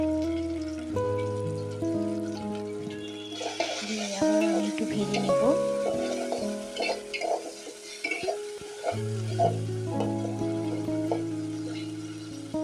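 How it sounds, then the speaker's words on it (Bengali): Onion, ginger and garlic paste frying in a pan for a country chicken curry, a crackling sizzle with sputtering bursts and utensil scrapes, close and fairly loud, without talk. "এটাকে একটু বাদামি রং করে ভাজবো এবার আমি বাটা মশলাটা দিয়ে দিচ্ছি এখানে"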